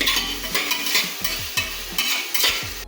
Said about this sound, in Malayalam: വെളിച്ചെണ്ണയിൽ തന്നെ ഈ ഉണക്ക് മുളക് ചതക്കിയത് നല്ല ഇതിലൊന്ന് വാടണം